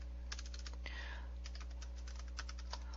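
Computer keyboard typing, a quick run of close, light key clicks at an uneven rhythm over a steady low electrical hum.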